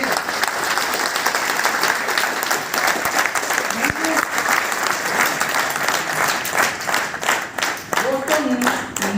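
Sustained applause from an audience at a network-marketing plan presentation, dense and even throughout, with a presenter's voice faintly heard over the clapping.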